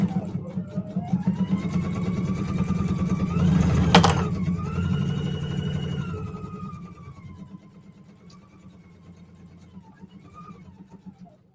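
Brother Creative Icon 2 sewing machine stitching, a steady fast mechanical hum with rapid needle rhythm that slows and fades toward the end, while a person talks over it.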